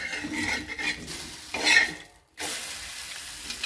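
Moong dal thalipeeth being flipped on a hot pan, a scrape and clatter of spatula on the pan amid steady sizzling, a brief lull, then the frying sizzle resumes strongly.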